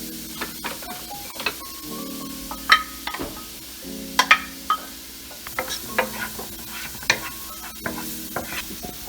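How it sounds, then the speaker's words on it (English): Finely chopped mushrooms cook in melted butter in a pan, a low sizzle broken by frequent scraping and clinking from a utensil stirring, close by and without speech. "And then we're going to take our finely chopped mushrooms and add them in."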